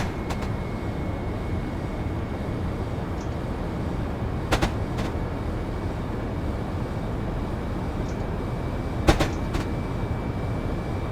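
An electric passenger train on the Faversham to St Pancras route in Train Simulator 2015 gently picks up speed toward 75 mph. A steady rumbling cab drone carries a faint tonal whine, broken by a few sharp clicks.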